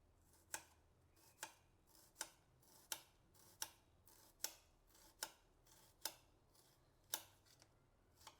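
A knife chops onions into small pieces on a board, giving sharp, crisp taps at a steady unhurried pace, about one every three-quarters of a second, close and quiet with no talking.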